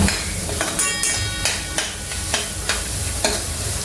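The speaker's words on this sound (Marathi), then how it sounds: "खोबरा असं चांगला खरपूस परतून घ्यायचं" Grated coconut is sautéed in oil for lemon rice, with a loud continuous sizzle and a regular series of sharp spatula scrapes and knocks against the pan, close by.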